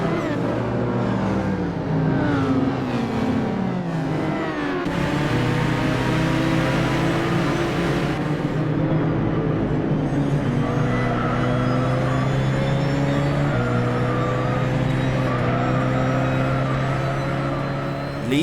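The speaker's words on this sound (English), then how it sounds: "the engines are quite weak and don't sound loud when you're in groups of cars" Several cars racing in GT Sport on PS4, engines revving and shifting through gears in a continuous loud drone with rising and falling pitches, and a brief swell partway through.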